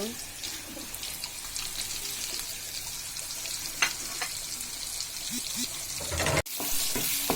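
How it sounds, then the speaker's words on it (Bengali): Onions and goat tongue fry with spices in a pan, giving a steady close sizzle with stirring clatter and a sharp knock near the end. "পেঁয়াজটা কষানো হয়ে গেছে, এরপর জিহ্বাটা আর পেঁয়াজটা দিয়ে এখন ছাগলের জিহ্বাটা হয়ে গেছে।"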